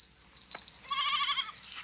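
Goats in a mountain herd bleat close by, a short call followed by a longer wavering bleat, fairly clear over quiet background.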